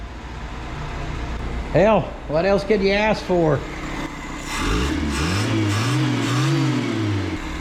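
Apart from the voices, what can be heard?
1984 Toyota dually truck engine idling with carburetor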